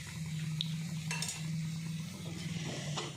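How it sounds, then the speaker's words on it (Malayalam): Chilli powder and onions are stirred and roasted in a pan on a gas stove. A soft sizzle and gentle scraping of the stirring spoon play over a low steady hum, with a couple of light clinks. "ഒന്ന് മുളക് പൊടി ഒന്ന് മൂപ്പിച്ചാൽ മതി കേട്ടോ."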